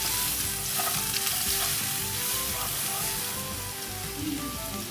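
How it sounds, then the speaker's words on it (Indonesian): Garlic and chicken fillet sauté in a hot pan, giving a steady, close sizzle with light stirring scrapes throughout and no talking. "Sekarang kita mulai tumis chicken filletnya ya teman-teman."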